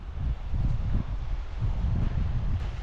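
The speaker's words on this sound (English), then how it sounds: "And it is super windy, so hopefully you can hear me." Steady, blustery Arctic Circle wind buffeting the microphone near the water, a continuous low roar with gusty swells and no speech.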